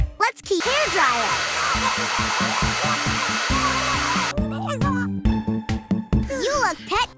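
A hair dryer from a Shimmer and Shine genie pet-grooming video game blows as a loud, steady whoosh for several seconds under cheerful game music and chimes, then cuts off as music and a character's voice continue.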